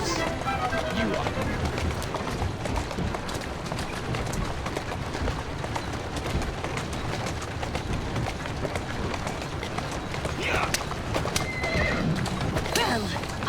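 Horse from Assassin's Creed Syndicate neighs and whinnies over steady clip-clopping gallop, the hoofbeats continuous and close throughout, with game ambience and a brief voice mixed in.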